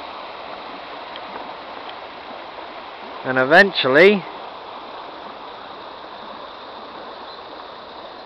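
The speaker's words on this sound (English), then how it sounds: "now this is the River Yealm" The River Yealm in England flows as a steady, broad rush of water throughout, with a brief burst of speech in the middle.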